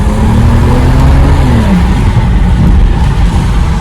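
A stage 1 tuned BMW 335i making 400 hp pulls hard under heavy acceleration, very loud and close. Its engine note climbs briefly, then settles into a steady, rough roar.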